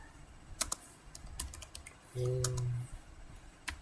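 Computer keyboard keys are tapped in short irregular bursts of clicks, close and fairly quiet, with a brief steady hum partway through.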